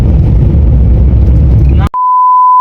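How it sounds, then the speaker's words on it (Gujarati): A flat electronic censor beep tone cuts in sharply after a stretch of dense, rumbling background noise and holds steady, loud and unbroken, to the end. "બીપ એવું માર દે"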